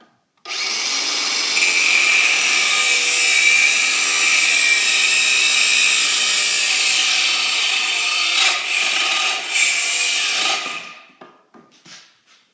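A power tool cuts through a seized exhaust bolt, giving a harsh, sustained high-pitched grinding whine that runs for about ten seconds, dips briefly near the end, then stops, with faint clatter afterward.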